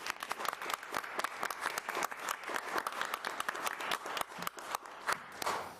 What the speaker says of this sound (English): So a big round of applause for everyone.